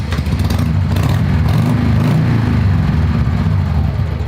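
A motorcycle engine rumbles loudly and steadily up close, a deep throbbing idle that holds for the whole stretch.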